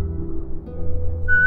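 A short rising whistle, clear and fairly loud, comes near the end over a steady low game-music drone; a player character whistles to Rosie, a bulldog, in The Walking Dead video game.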